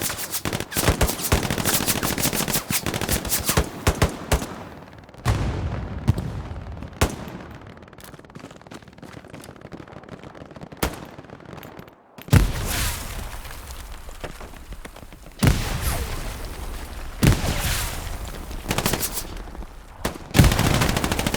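MG 42 machine gun fire in the World War II shooter Hell Let Loose: long, loud rattling bursts near the listener, broken by short pauses and single cracks, with distant battlefield shots in the gaps.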